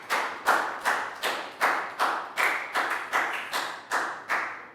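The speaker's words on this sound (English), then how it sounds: "Big high five and round of applause" A Year 3 English class clapping together in unison, about a dozen sharp, evenly spaced group claps close by, each with a short decay, and no speech over them.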